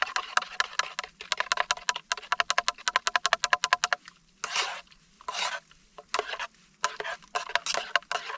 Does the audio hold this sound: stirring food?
yes